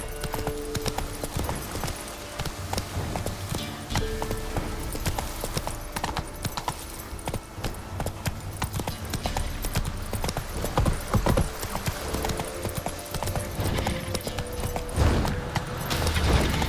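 A horse gallops in The Witcher 3, with rapid, continuous hoofbeats over game music and ambience, and a brief whinny partway through.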